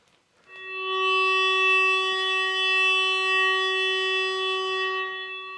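A steady electronic tone with buzzy harmonics from a metal detector passing over a piece of sheet metal switches on abruptly and holds at an even level for several seconds before starting to fade.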